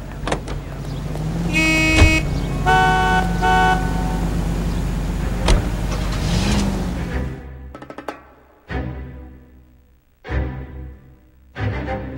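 A car in the L.A. Noire video game drives along city streets with a steady low engine rumble, joined by horn toots and passing traffic early on. The car then cuts to quiet gaps broken by short engine bursts.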